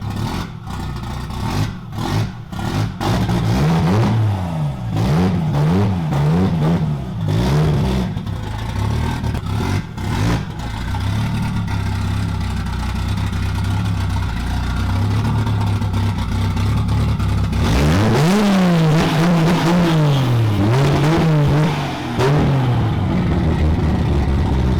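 A 2JZ engine swapped into a BMW E36, running slightly lean, revs repeatedly from a steady idle, each rise and fall distinct; loud and close, with a strong rumble throughout and a final pair of sweeping revs near the end.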